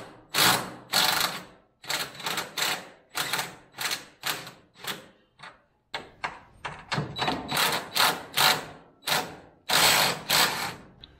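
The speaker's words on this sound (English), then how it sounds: "Unscrew two bolts and then put new ones in and tighten it down." Bolts on a car's suspension are worked loose and tightened, a near series of quick, rapid ratcheting bursts separated by short pauses, loud and close with no talking.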